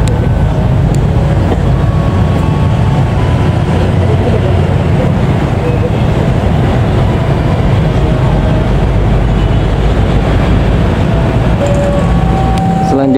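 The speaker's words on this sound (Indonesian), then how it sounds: "masuk dan melintas langsung di stasiun Cikampek, kereta api Argo Sindoro" Argo Sindoro passenger train running straight through Cikampek station without stopping, a loud, steady, broadband rumble and rolling roar filling the whole stretch, with a few faint tonal squeals and wheel noise on top.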